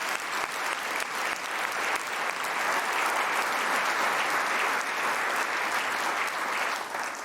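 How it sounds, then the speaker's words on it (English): Keynote audience applause fills the room, a dense continuous clapping from a large crowd that stays steady and moderately loud throughout, with no voices standing out. "Let's give them a round of applause."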